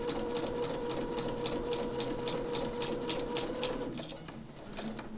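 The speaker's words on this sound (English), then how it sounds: "So I'm going to sew over the bit that we folded down on the top." Sewing machine stitching over a folded-down book page, a steady close mechanical whir that eases off slightly near the end, with no talk.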